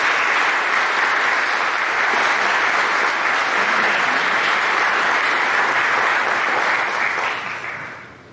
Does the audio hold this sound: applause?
yes